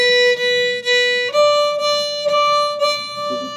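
Violin playing a simple piece from a Disneyland-themed orchestra exercise slowly in dotted rhythms, sustained bowed notes changing pitch every second or so, clear and close with no talking.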